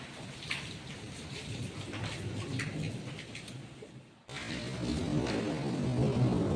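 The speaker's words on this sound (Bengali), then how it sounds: "এই রিমঝিম করে বৃষ্টি পড়ছে" Light rain falls in a soft, even patter with scattered drops, steady throughout apart from a brief dropout partway through.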